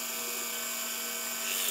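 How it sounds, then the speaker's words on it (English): A 1 3/8 inch Forstner bit boring into a wooden computer wall mount, a steady high-pitched motor whine with a sustained tonal drone that holds evenly, loud and close, without speech. "Now I can drill it out with 1 3/8 Forstner bit."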